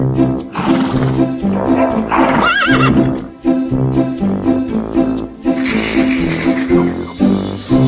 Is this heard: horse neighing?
yes